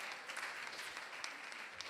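Parents clapping at a Sunday feast gratitude ceremony, a faint, distant patter of applause that keeps an even level throughout.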